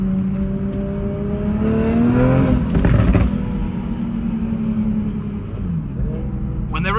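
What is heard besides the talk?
700 hp turbo Toyota Supra launching and shifting gears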